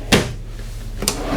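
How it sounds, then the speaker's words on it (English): A full-extension real wood RV kitchen drawer on ball bearing glides in a 2017 Newmar Ventana 4311 coach thumps shut twice, two short close knocks about a second apart. "these are full extension, real wood, ball bearing drawer glides. Everything pulls all the way out."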